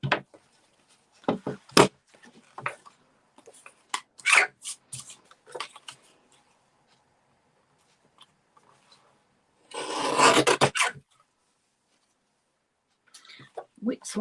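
A piece of wood trimmed by hand, giving short scraping and rasping strokes in scattered bursts with one longer, louder rubbing pass midway, close up with quiet gaps between.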